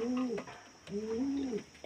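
Close, soft cooing from a pet pigeon, two throaty rolling calls separated by a brief pause, ending with a short sharp noise.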